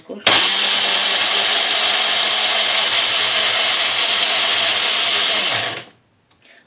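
A blender whirs pineapple lassi made with cream, starting abruptly and running loud and steady for about five seconds before cutting off, followed by a short quiet tail.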